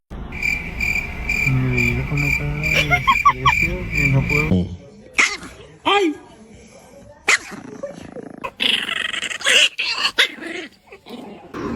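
A puppy growls and yaps in short, close bursts, loud and uneven, after an opening stretch with a steady insect-like chirp and a human voice.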